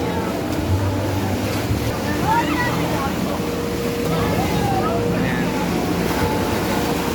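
A boat motor running on the sea near a Caribbean World area, its low steady drone mixed with wind buffeting and wave wash, while voices talk over it.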